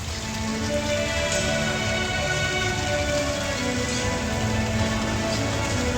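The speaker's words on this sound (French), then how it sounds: "il y a l'orage qui s'éclate. Ah oui, il y a l'orage. Il pleut." Steady thunderstorm rain in Chiang Rai pours down continuously at a constant level, with a faint low hum underneath and no voices.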